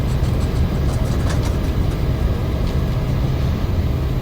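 A Ryanair airliner's thrust reversers roar during the landing rollout in Microsoft Flight Simulator: a loud, dense, steady rumble that holds unchanged throughout with no voices.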